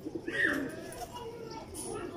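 Kasuri pigeons coo softly nearby, a low throaty call rising over faint background noise, with a voice talking lightly in the mix.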